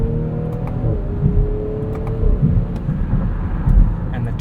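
A 2020 BMW X5 xDrive40i with an inline six and 8-speed automatic accelerates on the road, a steady low engine drone rising in pitch with a shift, heard from inside the cabin at moderate loudness.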